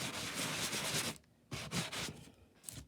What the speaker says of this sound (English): it's much faster to use one of these sanding blocks